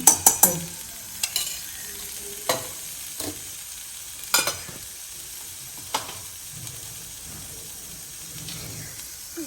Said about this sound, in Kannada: ಅದಕ್ಕೆ ಕಡಲೆಬೇಳೆ ಉದ್ದಿನಬೇಳೆನ ಒಂದು ಸ್ಪೂನ್ ಎಣ್ಣೆ ಹಾಕ್ತೀನಿ